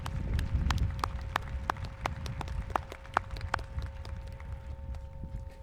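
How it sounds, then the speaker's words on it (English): A graduation audience applauds the Board of Education in a large hall with steady, moderate clapping. Scattered individual claps stand out sharply, and the applause thins out toward the end. "Let's give them a round of applause"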